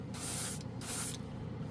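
Dupli-Color clear gloss aerosol paint sprayed onto a plastic model piece: two close, steady hissing bursts, the first slightly longer, separated by a brief pause.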